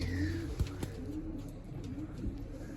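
Pigeons coo softly in a loft, a few low, rounded, repeated calls close by over faint background noise.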